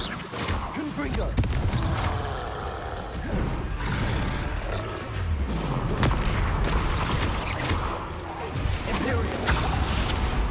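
Confringo and Bombarda spell explosions go off in Hogwarts Legacy combat, a constant barrage of booms, crackles and roaring impacts layered thickly over ten seconds, loud and busy throughout.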